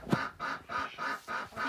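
Birds shut inside a coop on a snowy winter day quack and honk in regular, evenly spaced bursts, close and moderately loud.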